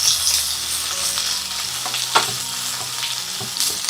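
Sliced onions sautéing in a hot pan, a steady close sizzle and hiss with occasional soft scrapes of stirring, no voices.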